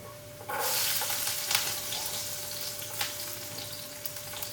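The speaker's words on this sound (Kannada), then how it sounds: "ಮೆಂತೆ ಫ್ರೈ ಆಗ್ಬೇಕಮ್ಮ" Fenugreek fries in a hot pan with ginger and garlic: a steady, close sizzle with crackling hiss and occasional stirring scrapes, and no talking.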